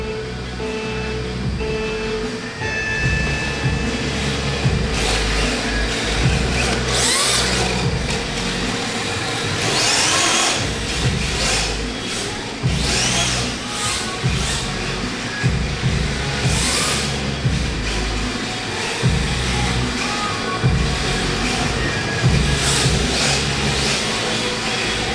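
RC drift cars battling at an IRCDF Top 32 drift event in NorCal, their small electric motors whining and revving continuously for the whole stretch amid loud, steady track and crowd noise.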